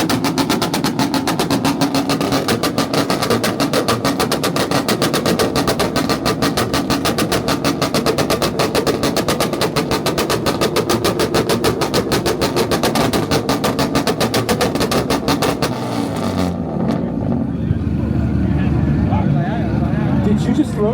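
A Honda Prelude at a two-step rev battle at an import car show holds a loud, sustained rapid-fire stutter of launch-control pops for most of the clip, then cuts out abruptly to a low rumble and crowd noise.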